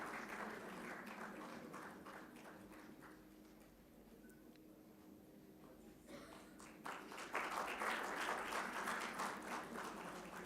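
Audience applause at a university convocation ceremony, a steady wash of clapping across a large hall that swells louder toward the end, with no speech over it.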